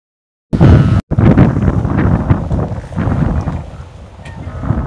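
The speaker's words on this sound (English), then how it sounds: "Wow, it's windy, man." Strong wind buffets the microphone outdoors on a university campus, a loud continuous low rumble and roar after a brief cut at the start, with no voices heard.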